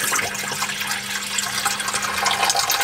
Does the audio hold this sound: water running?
yes